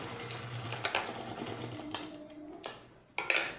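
A sewing machine stitching the elastic waistband of a dhoti salwar, short bursts of rapid mechanical clatter separated by pauses, with a couple of sharp clicks near the end.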